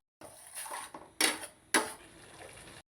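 Spinach pasta sauce stirred in a pan, with metal spoon scrapes and clinks against the pan in a few uneven bursts, including two sharper knocks, close and moderately loud with no talk.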